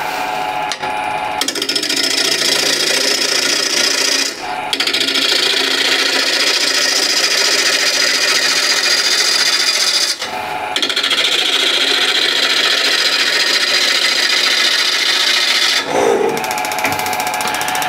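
A woodturning gouge takes a heavy, half-inch-wide cut on a spinning lathe, a continuous rough scraping roar broken by a few brief pauses as the tool lifts off the wood.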